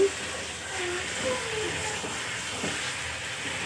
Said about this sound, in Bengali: এই যে দেখো মাংস রান্না করতেছি